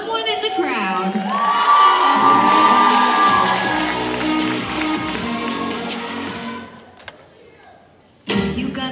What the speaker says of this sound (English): Put your hands together for 401, Someone in the Crowd.